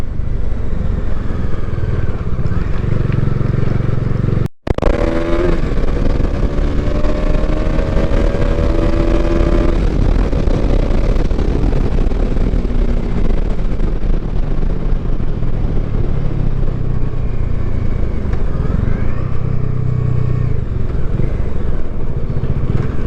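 A Bajaj Dominar 400 motorcycle engine drones steadily close by while riding downhill in hilly terrain, its pitch sliding and shifting as it coasts, with a brief sharp dropout early on and road rumble throughout.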